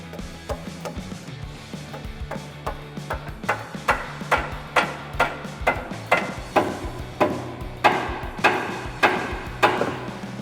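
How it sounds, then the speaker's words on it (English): A dead blow hammer striking a sway bar bushing on a Jeep Wrangler JK during a Currie Antirock front sway bar install, a steady run of about twenty sharp, resonant taps, close and loud, with no voices. "Probably going to have to give it a couple of taps with the dead blow."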